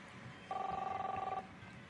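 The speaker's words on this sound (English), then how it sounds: "Answer the phone, please." A telephone rings in the game Captain Spirit. One bright, rapidly trilling electronic ring lasts about a second over quiet background room tone.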